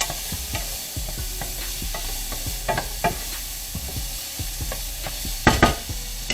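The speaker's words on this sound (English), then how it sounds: "I'm going to use my last bit of butter. Put that in there like that there. And we're going to go ahead and add peppers and onions" Peppers and onions sizzling in melted butter in a pan, a constant close frying hiss punctuated by repeated spoon stirs and scrapes, with a sharper clatter near the end.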